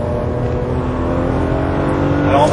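Ferrari 599 GTB engine drones steadily and loud at a track, the Fiorano circuit, with cold tyres, holding a constant hum that rises slightly near the end.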